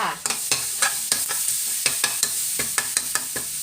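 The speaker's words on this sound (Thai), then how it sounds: "ผัดกระเทียมให้หอมจ้า" Chopped garlic stir-fried in hot oil in a wok, with a bright steady sizzle broken by sharp rhythmic scrapes of the spatula, close and clear with no talking.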